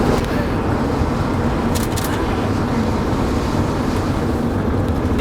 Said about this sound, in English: Bit of a sandstorm here going on.